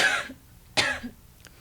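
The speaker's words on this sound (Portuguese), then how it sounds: "Já tivemos que fazer pausas em gravações por causa das tosse dela." Two harsh coughs, a short pause between them, close and fairly loud in a quiet room.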